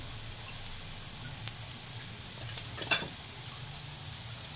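Ground spices (turmeric, coriander powder, red chilli powder) with salt sizzling in hot oil for a dried-fish sukat dish, a soft steady fry with a couple of brief stirring clinks, no talk.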